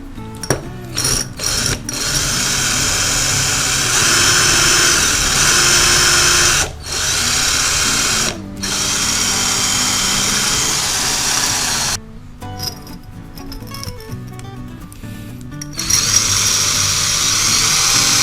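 A handheld power drill with a multipurpose bit runs in repeated bursts, a loud, close whirring whine broken by short stops and restarts, ending in choppy, uneven spurts as it bites into material.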